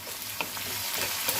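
Crushed garlic, chopped chilli and onion frying in hot oil in a wok, a steady close sizzle with a few faint stirring scrapes throughout.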